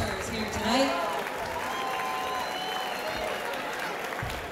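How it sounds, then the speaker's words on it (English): Crowd applause for the boxers at a Golden Gloves junior novice boxing event, a dense, sustained clapping and cheering from an arena audience, steady in level, with some voices mixed into the noise. "one more big round of applause for all of our boxers here tonight."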